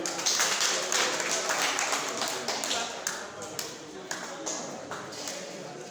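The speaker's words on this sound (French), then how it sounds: "Applaudissez pour elle, s'il vous plaît." An audience at a personal-development workshop claps for a girl who has volunteered, a brisk burst of scattered handclaps that thins out into separate taps and fades, with talking mixed in.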